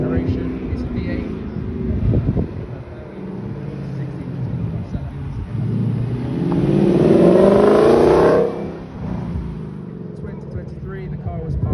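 A 2020 sixth-generation Dodge Charger with a V8 engine, heard as a loud rising engine roar that swells to a peak and then cuts off, with talk over the top throughout.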